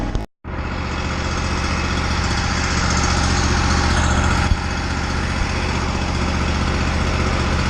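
An Exmark Lazer Z zero-turn mower with a Kawasaki engine runs steadily and loudly, its dense engine roar holding constant after a brief cutout near the start, with one small knock partway through.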